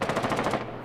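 Rapid automatic gunfire in the tactical shooter Rainbow Six Siege, a dense, loud burst of shots rattling continuously for under a second and thinning out at the end.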